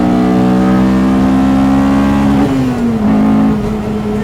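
A Honda Integra Type R engine revs hard and steadily, its pitch dipping and climbing again near the end, loud and close with no talking.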